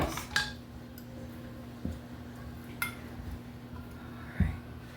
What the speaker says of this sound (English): We're going to start stacking our bowls